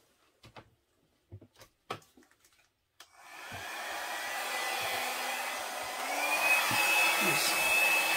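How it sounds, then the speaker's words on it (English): A hair dryer blows over acrylic pour paint, switching on after a few scattered knocks and clicks, then running as a loud, steady whooshing roar that rises a little in strength toward the end. "So I'm going to blow it out more and see what I get."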